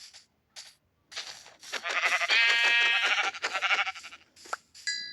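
Sheep in Minecraft bleat in a burst of several wavering, nasal calls, close and fairly loud, with short pauses between them and a few small game clicks near the end.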